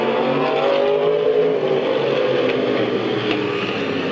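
Race cars roar around the oval at Midvale Speedway, a steady loud wall of engine noise with no break and no voices.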